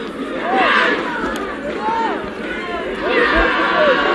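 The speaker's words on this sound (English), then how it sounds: "There's a Jamaica crowd in the background making the noise that you can hear." Crowd noise at a Jamaica versus Trinidad and Tobago under-19 rugby match, with shouting and chanting voices rising and falling in the background as a commentator talks over it.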